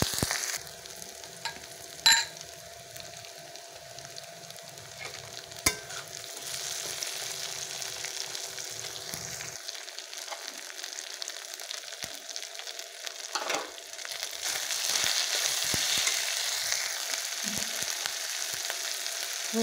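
Food fries in a pan with a soft, steady sizzle throughout, broken by a couple of sharp utensil clicks, growing slightly louder toward the end.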